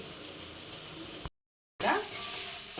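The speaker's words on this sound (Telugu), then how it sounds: "లైట్గా ఇట్లా ఫ్రై చేసుకోవాలన్నమాట." Spice masala of cumin powder, cardamom, clove and cinnamon powder sizzling and frying in a pan for a chicken wing pulao, a steady close hiss broken by a brief silent gap, then louder crackling.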